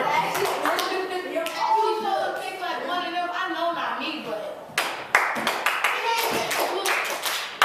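A group of children claps in response to a teacher's call, first under steady overlapping chatter, then in sharp scattered claps that are not cleanly together.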